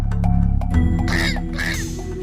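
A cartoon crow caws in a children's animated story, two harsh, loud calls rising over a steady music bed, with no talk in between.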